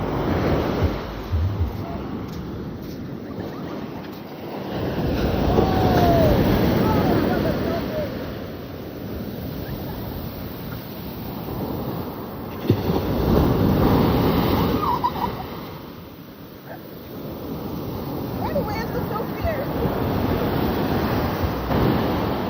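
Ocean waves wash onto a Jamaican beach in slow, rolling surges with gusts of wind buffeting the microphone, the surf swelling loud and then easing back across a steady broadband roar.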